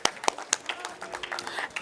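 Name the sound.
applause for award sponsor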